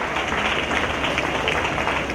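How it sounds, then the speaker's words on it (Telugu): An audience at a Catholic festival of Our Lady of Velankanni in Eluru district bursts into loud, dense applause for a priest. The clapping is steady and close, then stops abruptly. "తండ్రి గారికి గట్టిగా చప్పట్లు కొట్టి మన కృతజ్ఞతలు తెలియచేసుకుందాం"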